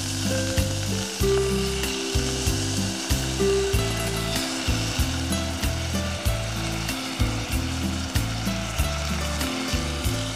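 Soaked pearl millet and vegetables sizzling steadily in a hot pan, a loud continuous frying hiss with faint scraping stirs, no talking.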